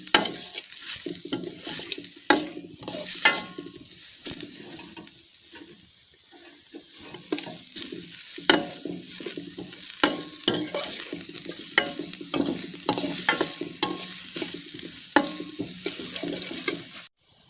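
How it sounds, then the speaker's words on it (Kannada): Onions frying in oil in a pan while being stirred, a continuous sizzle broken by repeated scraping and clacking strokes of a spoon, close and fairly loud, with no talking. "ಈ ನೀರುಳ್ಳಿಯನ್ನು ನಾವು ಚೆನ್ನಾಗಿ ಎಣ್ಣೆಯಲ್ಲಿ ಸ್ವಲ್ಪ ಬಾಡಿಸಿಕೊಳ್ಬೇಕು."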